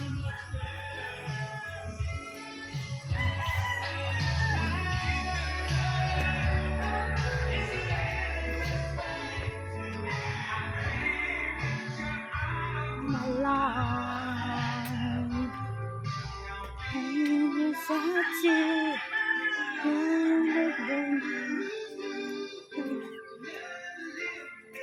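A rooster crows and chickens cluck during a walk home along a shortcut, heard through steady background music with no clear pause between calls.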